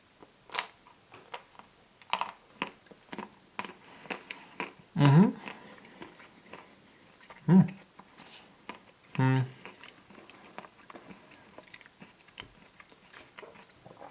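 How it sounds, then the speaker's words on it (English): Bites into a Ferrero Rocher White ice cream bar with a crunchy coating, giving a few close, crisp crunches amid soft chewing and small mouth noises, with quiet pauses between bites. "I am going to give this a bite."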